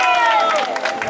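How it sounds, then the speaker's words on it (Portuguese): A crowd at a Father's Day event in Cidade Líder breaks into cheering and applause, with loud voices, whoops and clapping mixed together in a short, close burst. "Uma salva de palmas, galera."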